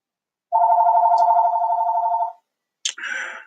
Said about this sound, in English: I said drop a line right when the landline started ringing.